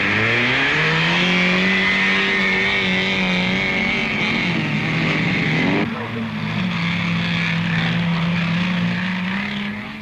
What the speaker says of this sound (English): The TVR flies round under the official eye.